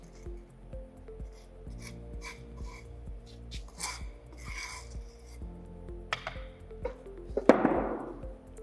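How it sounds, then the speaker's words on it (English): A straight edge drags across moulding sand in a foundry flask, giving close, uneven rasping and scraping strokes of moderate loudness, ending in a sharper gritty burst of sand being swept off, with no talking. "This is straight edge, with the help of which you can remove the extra sand"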